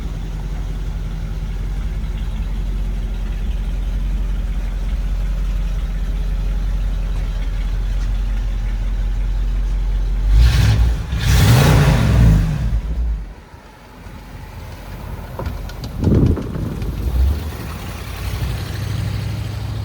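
A 1959 Ford Fairlane 500 Galaxie Skyliner retractable idles with a steady low rumble, then revs up in a couple of rising bursts before settling back to idle, close by with no talk.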